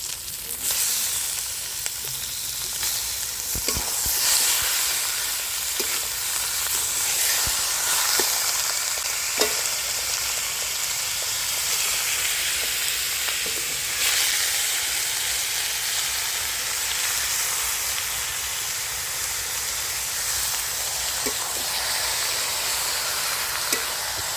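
Chicken meat frying and being stirred in a chili masala for a village-style curry, with a steady loud sizzle and occasional clinks of the spoon against the pan.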